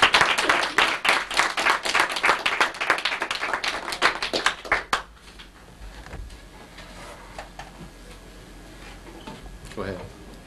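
Audience applause at a church gathering rings out as a burst of clapping for about five seconds, then stops abruptly, leaving quiet room noise with faint shuffling.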